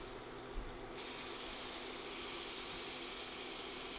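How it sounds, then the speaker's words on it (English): Butter and onions sizzling in a pan on the stove for a turkey pot pie, a steady broadband hiss that swells after the first second and holds level and close throughout, with no talk. "I'm going to saute those onions"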